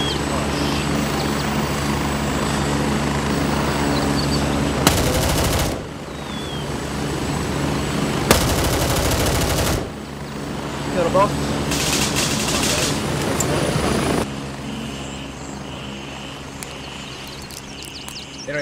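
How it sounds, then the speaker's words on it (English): A helicopter in the Gray Zone Warfare video game drones steadily with a loud rotor and engine hum throughout, broken by a few short bursts of gunfire. "Another heli coming in."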